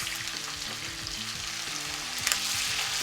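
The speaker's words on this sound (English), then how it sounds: "Guess what? Our bacon is popping." Bacon and garlic fry in a pan with a constant close sizzle, overlaid by repeated scraping and stirring strokes and a few sharp pops, moderately loud and free of speech.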